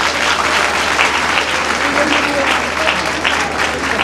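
Teachers honoured at a ministerial felicitation event in Gwalior break into sustained, dense applause from a large crowd, loud and steady throughout, with faint speech-like murmurs mixed in.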